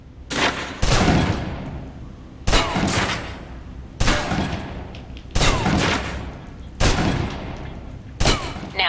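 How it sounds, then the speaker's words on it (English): A submachine gun in the Alpha Protocol video game empties a full magazine in six loud, sustained automatic bursts, each about a second long with short gaps between them. "Now, let's move on to the submachine gun. Now let's empty the clip."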